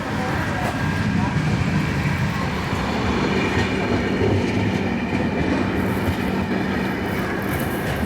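Vidarbha Express (12106) train running between Gondia and Mumbai via Nagpur, a steady loud rumble of wheels and carriage noise heard from inside the coach, with voices talking over it.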